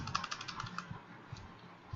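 Fast, light typing on a computer keyboard while entering a database query, with soft irregular clicks at close range over a faint background hum.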